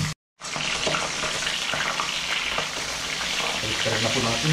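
Fish fries in a hot pan, giving a dense, continuous sizzle and crackle at close range after a brief moment of silence at the start.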